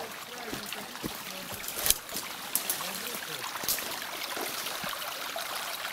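Water runs steadily out of a pond being drained for a bulldozer, a broad continuous wash with scattered splashes and trickles, fairly close, while voices talk faintly in the background.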